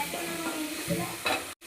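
Mustard seeds and curry leaves crackle and sizzle in hot oil for a tempering in a home kitchen, a short burst of popping and spitting close by.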